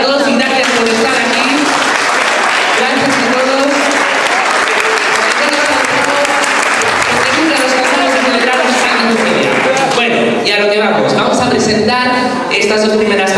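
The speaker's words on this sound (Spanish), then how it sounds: "Un fuerte aplauso para todos" Loud, sustained applause from a large crowd filling the room at a percussion concert, with cheering voices mixed in throughout.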